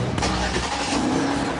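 A car engine runs steadily at close range, a continuous broadband rumble with no voices over it.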